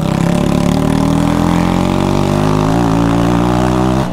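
A Honda Titan 160 motorcycle with an aftermarket exhaust pipe, loud and close, holding a steady throaty engine note with a slight rise and wobble in pitch before cutting off near the end.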